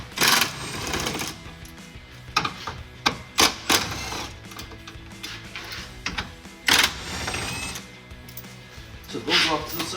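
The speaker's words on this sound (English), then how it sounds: "I'm gonna use an impact. It's quicker. Take it all the way out." Impact wrench backing out headlight bolts on a 2016-2018 Chevrolet Silverado 1500, with short rattling, hammering bursts and pauses between them, close by, and someone talking in between.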